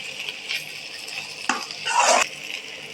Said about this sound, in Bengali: আমি মশলাটাকে ভালো করে কষিয়ে নিয়েছি